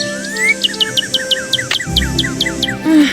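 Cardinals in the video game Ghost Dogs of Moon Lake chirp in a quick, steady run of bright, clear notes that slide downward, layered over a constant insect drone, with a louder call near the end.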